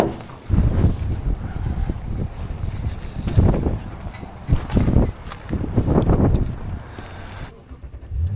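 Gusts of wind from a winter storm in Alaska buffet the microphone in heavy, uneven bursts, with low rumbling swells rising and falling over several seconds.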